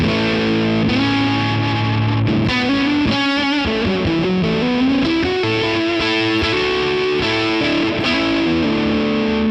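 Overdriven electric guitar through an HX One on the Alpaca Rouge setting, with a Keeley Hydra reverb and Keeley Halo delay added, sounding a loud, continuous stream of distorted chords and bending notes with a washy, echoing tail and no speech.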